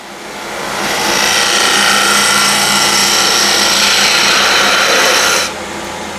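A woodturning gouge rides its bevel along a spinning workpiece on a lathe while cutting a cove, giving a steady, loud hissing shear that holds for about five seconds and then drops away abruptly near the end.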